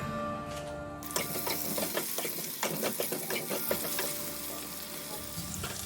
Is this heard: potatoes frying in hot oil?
yes